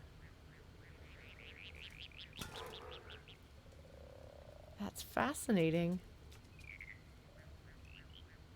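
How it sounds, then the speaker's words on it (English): Frogs croak in the sewers of the game Stray, a run of quick rhythmic calls followed by a louder burst of croaks, with a person speaking briefly amid the sounds. "Yeah, they sound like frogs."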